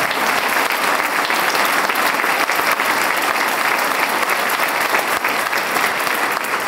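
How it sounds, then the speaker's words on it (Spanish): A hall audience at a Coalición Canaria candidacy presentation in La Laguna applauds the young organisers, a thick, even roar of many hands clapping continuously at moderate loudness. "Un aplauso para todos ellos"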